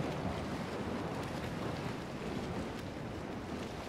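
Water splashing and churning as a character swims in the game Shadow of the Colossus, a dense continuous wash of surf-like noise, steady and fairly loud with no talk.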